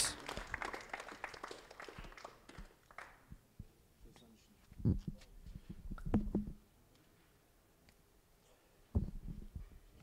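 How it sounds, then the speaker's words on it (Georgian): Brief bursts of applause for the fighters at a fight-promotion press conference, scattered claps rising and fading in a few short waves at moderate distance, with a voice talking between them. "აპლოდისმენტები მებრძოლებს"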